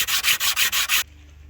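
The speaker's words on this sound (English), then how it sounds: "I'm using 120 grit sandpaper" Disc brake pads being sanded by hand on 120 grit sandpaper, six steady rhythmic rubbing strokes, loud and close, stopping abruptly into near silence.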